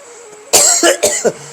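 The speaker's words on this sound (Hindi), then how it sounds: "जी खांसी हो रही है" Three or four harsh, close coughs come in a quick burst, loud and raspy, with no talking.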